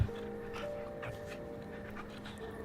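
A dog pants softly in quick, steady breaths, faint and close, with a few slight whimpering tones behind a low background hum and no speech over it.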